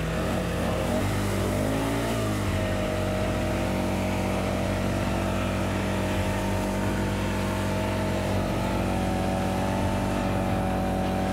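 A Ford Ranger 4WD in low range grinds up a soft sand track on Cape York, its engine droning loud and steady with shifting rev pitch as it strains for traction.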